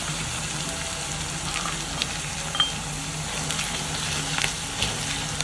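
Garlic and ginger paste frying with onions in a pan for chicken kosha, a steady, even sizzle that holds at one level with a few faint pops and no talking.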